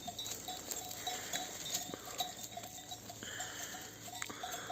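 A farmyard with sheep and lambs shuffling and faint bleating, light tapping and patter throughout, with no talking.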